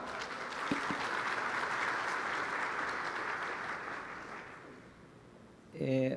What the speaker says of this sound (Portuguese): os aplausos efusivos da nossa plenária